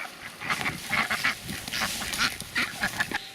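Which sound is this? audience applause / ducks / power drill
ducks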